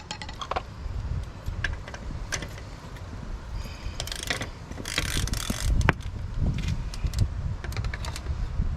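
A 21mm socket is hammered onto a stubborn locking lug nut on a car wheel, with a scattered run of sharp metallic taps and clinks. The blows come at uneven intervals over a low background rumble.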